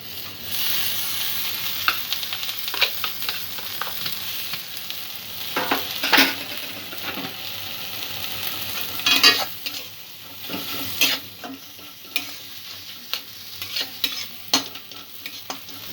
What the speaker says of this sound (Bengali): কুসুমের যে জলীয় ভাবটা রয়েছে সেইটা যতক্ষণ না শুকিয়ে যাচ্ছে ততক্ষণ উপকরণটা আমি ভাজতে থাকব